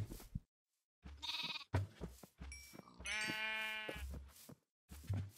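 Sheep in the video game Minecraft give several close, clear bleats in short separate bursts, some of them long and quavering, with silent gaps in between.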